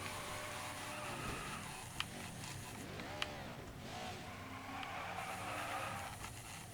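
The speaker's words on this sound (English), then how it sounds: "Look at the cars sliding down the track." Stock cars sliding and skidding down the track in the NASCAR 21 Ignition racing game, a steady roar of engines with sweeping tire-squeal whines, a couple of sharp thumps, and a continuous dense racing backdrop.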